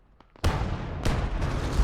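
A heavy blast hits a Panzer I tank in the World War II game Gates of Hell, followed by a second booming impact and rumbling debris. The impacts are close and loud with no talk.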